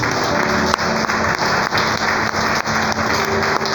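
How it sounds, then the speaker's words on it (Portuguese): Congregation applauding Jesus at a Portuguese-language church service, loud dense clapping filling the room steadily with a faint tonal hum beneath and no break in the sound. "Dê um aplauso a Jesus."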